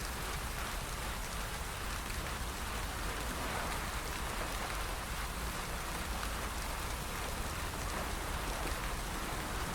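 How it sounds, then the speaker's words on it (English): Rain in the Zwift cycling video game gives a steady, even hiss of falling drops that holds unchanged throughout, with no voices. "Let's cool you down with some rain."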